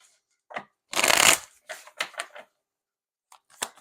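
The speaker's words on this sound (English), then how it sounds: "I don't know why I'm shuffling again." Tarot cards being shuffled by hand, several short bursts of riffling and flicking separated by pauses, with one longer loud shuffle near the start, close and alone.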